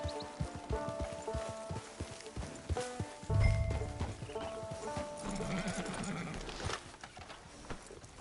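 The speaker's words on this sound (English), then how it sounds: "Hitch your horse." Hooves clip-clop as a horse walks in the video game Red Dead Redemption 2, followed by a whinny, with game voices talking over the ambience.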